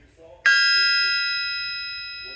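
A brass hammer strikes a used Top Fuel nitro crankshaft once, and a sharp clean metallic ring follows, sustained like a church bell and decaying slowly. The tone is loud and close, with faint murmuring before the strike.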